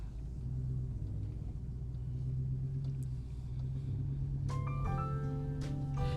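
A GMC Hummer EV rolls along with a steady low road rumble heard from inside the cabin, joined near the end by a brief run of faint tonal chimes.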